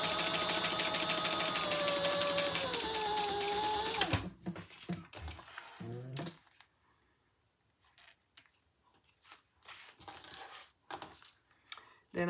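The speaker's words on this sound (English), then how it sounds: "And now we're going to do it. Sew those together." A sewing machine runs steadily for about four seconds, stitching a zipper onto a rounded make-up bag, then stops; scattered handling clicks and rustles follow, with the motor loud and close.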